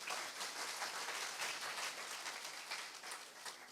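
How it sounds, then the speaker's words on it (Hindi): An audience at a youth conference's concluding session applauds in sustained, faint, even clapping with no voices over it. "हाँ ताली बजाइए।"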